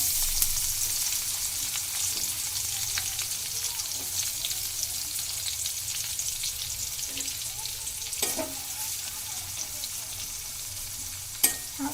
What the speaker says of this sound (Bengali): এবারে ওই একই তেলে আগে থেকে কেটে রাখা পেঁয়াজগুলোকে একটু বেরেস্তা করে নিব